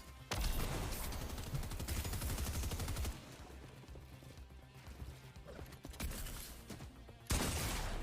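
Loud shotgun blasts from a video game ring out in bursts amid busy, dense game audio, with heavy reports near the start, around the three-second mark and again at the end.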